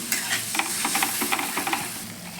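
Ground spice paste for potato curry frying with a little water, a steady sizzle under quick rhythmic stirring and scraping strokes in the pan, close and moderately loud.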